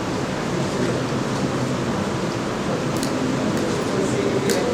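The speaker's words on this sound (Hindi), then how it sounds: "बारिश रुकी नहीं।" Stage rain effect during a live Hindi play at a theatre festival: a steady, dense hiss of rainfall that holds evenly throughout, filling the room without a break.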